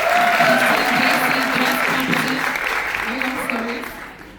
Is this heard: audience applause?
yes